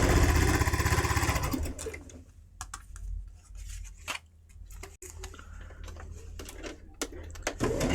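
After a loud opening rush, a sewing machine stitches quilt block pieces together, giving a soft, rapid ticking patter with irregular clicks, close and moderately quiet.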